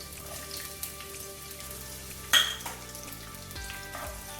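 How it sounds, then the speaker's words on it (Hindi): Sliced onions hit hot mustard oil with a soft, steady frying crackle, marked by one sharper splash-like burst midway and a few light clinks, close and without voices. "अभी हम इसमें पहले डालेंगे स्लाइस्ड अनियन।"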